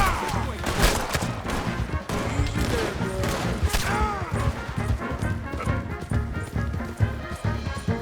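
In Red Dead Redemption 2, gunshots crack amid a chaotic fight, with hoofbeats and crashes in a dense, loud mix and voices shouting intermittently.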